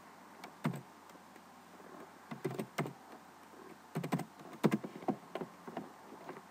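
Quiet, close keystrokes on a computer keyboard while C# code is written, coming in short irregular clusters of taps with brief gaps.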